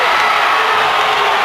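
A basketball crowd in a high school gym cheers loudly and continuously, a dense bright roar of voices with no pause.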